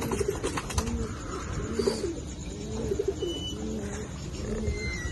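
Domestic pigeons coo in a repeated, rhythmic series of soft throaty calls, close by, with faint chirps and background noise.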